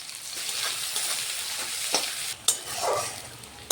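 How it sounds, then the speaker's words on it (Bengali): Onions with a pinch of salt frying in hot oil in a pan, a bright continuous sizzle broken by a couple of sharp stirring scrapes near the end. "তেলটা গরম হয়ে গেছে, এবার পেঁয়াজটা সামান্য লবণ দিয়ে দিলাম"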